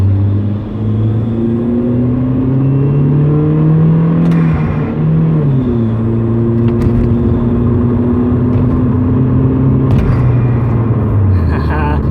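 Hyundai Genesis Coupe 2.0T with a Solo Performance catback exhaust splitting into twin 2.5-inch pipes, its engine revving and dropping in a steady, moderate drone with shifting pitch; fairly mild rather than loud, with faint voice murmurs.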